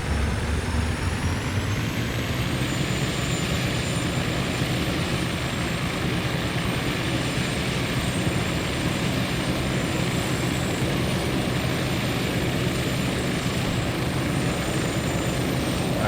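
A helicopter engine roars loud and steady throughout, a dense whirring drone with a high turbine whine above it.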